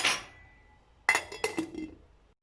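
A lid is set down on a pot of melted sugar syrup for basil sherbet, giving a few sharp, close metallic clinks in quick succession after a quiet, faintly hissing start.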